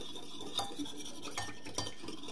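Egg yolk and milk being stirred in a bowl with a utensil, a few soft scraping clinks against the sides at an unhurried pace, close and quiet with no voices.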